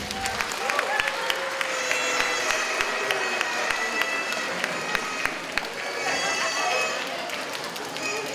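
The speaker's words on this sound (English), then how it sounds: "One more round of applause" Audience at a TANGO2 family conference celebration giving a sustained round of applause, dense clapping from a crowd continuing steadily throughout, with some cheering voices mixed in.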